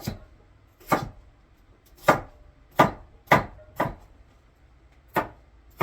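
A knife chops vegetables into chunks on a cutting board for venison stew, seven or eight distinct, close, crisp thuds at irregular intervals of roughly half a second to a second, with quiet gaps between and no talk.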